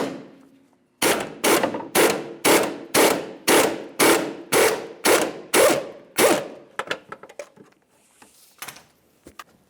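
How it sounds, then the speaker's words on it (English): A half-inch pneumatic impact wrench hammers at a control arm bolt on a 2002–2009 Chevrolet Trailblazer, ten loud, evenly spaced bursts in close succession, followed by quieter clanks and rattles as the tool stops. "I should have enough access to get my 1/2-inch air gun in there and remove this bolt"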